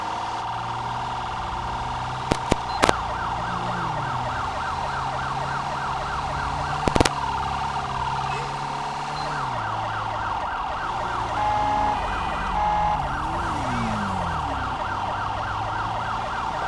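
A police car siren in the video game GTA V wails, cycling steadily up and down over engine drone, continuous and prominent, with a few sharp clicks.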